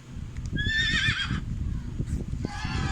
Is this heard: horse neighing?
yes